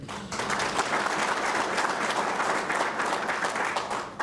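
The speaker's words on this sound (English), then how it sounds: "Love the applause, but we can hold that till we get to the end." Audience applause at a Hesston community meeting, a steady dense wash of many hands clapping that holds evenly for about four seconds with no talk over it.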